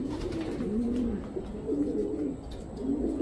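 A racing pigeon arrives back at its loft during a sprint race, with soft, repeated cooing close by over a steady background hum.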